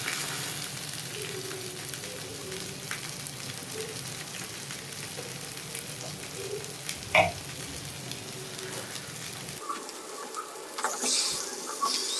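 Fish pieces frying in oil on a tawa griddle, a steady close sizzle and crackle with a brief clatter midway, then the sizzle drops lower near the end.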